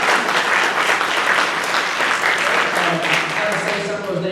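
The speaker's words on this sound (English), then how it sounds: "give them a round of applause" Rotary club members in a meeting room applaud new members, a dense, sustained round of clapping from a sizeable audience that holds steady and starts to thin out toward the end.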